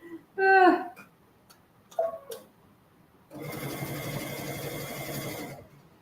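A domestic sewing machine stitching the overlap seam on a pair of kids' boardshorts runs in one steady burst of about three seconds, preceded by a few short clicks and brief handling noises.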